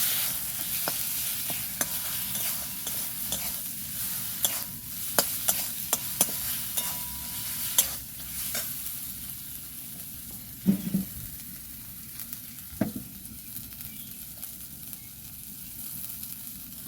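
Spices with chili powder and turmeric sizzling as they are stirred and sautéed for a light potato and rohu fish curry, a steady hiss broken by repeated sharp spatula scrapes and taps against the pan, close and busy throughout.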